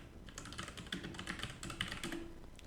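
Typing on a computer keyboard while setting up Python, a quick steady clatter of keystrokes heard up close with no talking.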